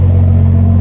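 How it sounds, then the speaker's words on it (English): A 2016 BMW 435i xDrive with a 3-liter engine settling down from a high idle, a loud, steady, close-up droning rumble with no talk over it. "As it comes down off a high idle"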